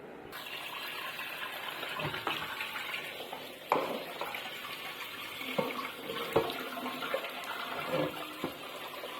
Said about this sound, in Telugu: ఇలా శుభ్రంగా అయితే గోంగూరని కడుక్కోవాలండి